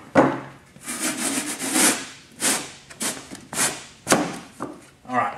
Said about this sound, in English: you can take a rasp and rasp off this corner right here until it slides in easy